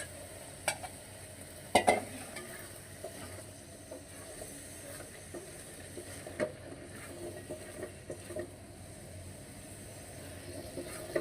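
Prawns and potatoes are stir-fried in a pan, giving a soft, steady sizzle with a few clattering spatula knocks, loudest around the second mark, and no speech.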